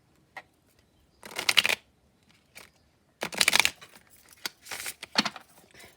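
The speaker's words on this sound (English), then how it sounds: "I'm shuffling my everyday witch tarot" Close-up shuffling of an Everyday Witch tarot deck on a table in several quick bursts separated by short pauses, crisp riffling and flapping with no voices.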